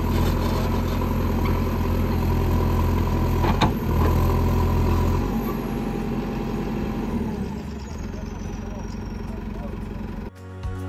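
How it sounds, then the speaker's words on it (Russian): A heavy tractor engine rumbles and idles nearby while digging a pit for a toilet, with a clunk partway through, then the engine noise drops and cuts out near the end. "пока трактор выкапывает яму для будущего туалета"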